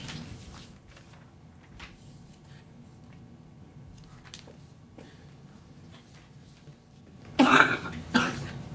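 A person coughs twice in quick succession near the end of a quiet stretch during a township trustees meeting, the coughs loud and close against faint room noise and rustling.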